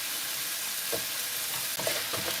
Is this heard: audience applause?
no